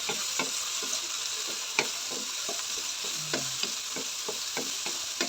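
Diced potato, carrot, capsicum and peas fry lightly in a pan, a continuous faint sizzle with rhythmic scraping stirs repeating roughly every half second, close and quiet.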